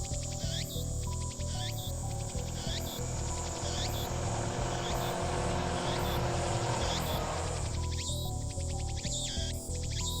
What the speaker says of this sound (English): I can hear the sound of cicadas from somewhere.